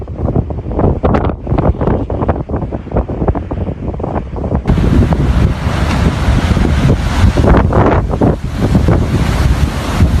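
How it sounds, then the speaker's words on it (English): Ocean waves crash over splintered beams and tangled wires where homes stood in Buxton, North Carolina, after a hurricane, a loud continuous surf roar with heavy wind buffeting the microphone. "Waves continued to crash over splintered beams and tangled wires"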